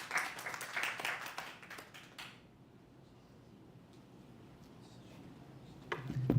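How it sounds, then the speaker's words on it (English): A conference audience applauds in a brisk burst of many hands for a couple of seconds, then it cuts off abruptly into quiet room tone, with a few scattered claps near the end. "Let's give him a round of applause so he can share with us."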